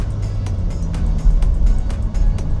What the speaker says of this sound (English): So I'm going to accelerate now to about 20,